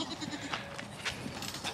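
A Nigerian Dwarf dairy doe in her third year gives a few faint, wavering bleats. The bleats are muffled under steady rustling and background noise.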